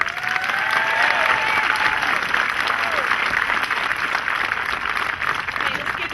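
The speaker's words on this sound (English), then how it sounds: "let's give them another round of applause" Sustained applause from a crowd at a stadium veterans event honoring soldiers, steady and fairly loud throughout with faint voices mixed into the clapping.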